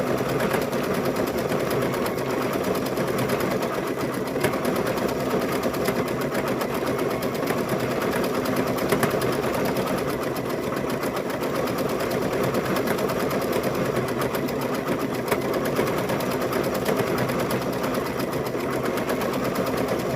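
An embroidery sewing machine stitches the nose onto a stuffed bear, giving a continuous, fairly loud rapid chatter that holds steady throughout.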